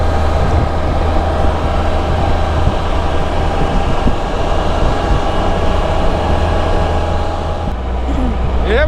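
Steady rumbling roar of a train rolling past close by, a continuous heavy drone for several seconds that eases slightly near the end.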